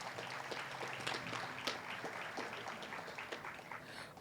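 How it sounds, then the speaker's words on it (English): Steady applause from an audience at a county Crisis Receiving Center ribbon cutting, a dense wash of many hands clapping at moderate level throughout without pause. "Give them another round of applause."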